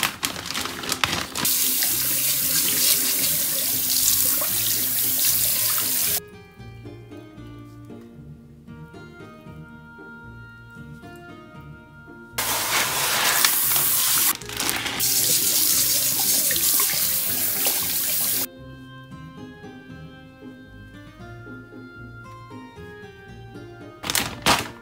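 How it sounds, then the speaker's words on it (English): Tap water gushes steadily into a container for watering houseplants, a loud continuous rush that stops, resumes for several seconds, then stops again, with quieter gaps between the runs. "we are going to do a preliminary watering"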